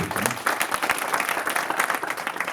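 Audience at a youth conference in France with Charles Blé Goudé applauds, a dense, loud, steady patter of many hands clapping together with faint crowd noise.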